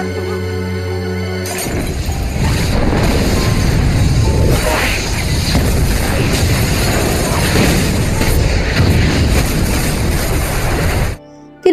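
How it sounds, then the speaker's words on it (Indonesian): A loud explosion set off with gas and a torch erupts and roars on with crashing, shattering debris for several seconds before cutting off abruptly. "berhasil membuat sebuah ledakan menggunakan gas dan lampu obor"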